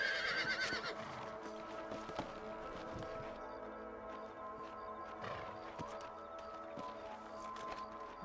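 A horse neighs loudly at the start in Red Dead Redemption, followed by clattering hoofbeats and scattered knocks over a steady background hum.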